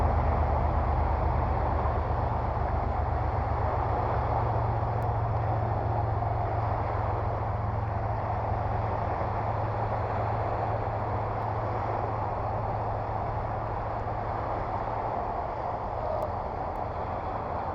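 A train passing near a park at dusk, a steady low rumble that holds for the whole stretch, moderately loud and continuous, with no one talking over it.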